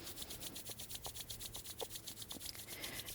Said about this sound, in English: We're just going to draw it back into ourselves by rubbing our hands together.